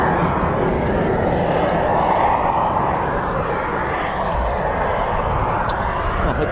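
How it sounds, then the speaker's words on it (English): Eurofighter Typhoon FGR4 jet engines spool up at RAF Coningsby, a steady broadband roar that holds loud for several seconds while someone talks briefly over it. "can hear more Typhoons spooling"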